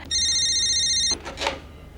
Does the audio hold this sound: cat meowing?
no